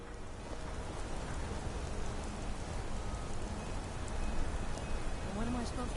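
Steady rain falling in the video game Skyrim VR, a dense, even hiss of drops pattering on surfaces throughout, with a few faint background game sounds and a brief voice near the end.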